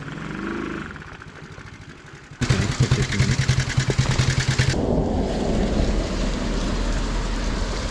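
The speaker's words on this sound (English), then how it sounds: "That was very heavy rain." Heavy rain heard from shelter under a bus stop-style cover, a dense steady roar of drops drumming on the roof with a low rumble underneath, loud and continuous after a quieter opening.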